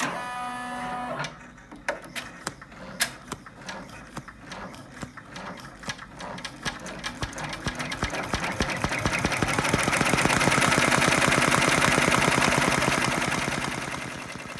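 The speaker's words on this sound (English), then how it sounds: "And stitch out the last step of the stitch map." An embroidery machine stitches the final step of an oversized in-the-hoop felt angel feltie, a fast, even mechanical chatter with sharp needle ticks that thickens into a louder, steady whir, with no voices.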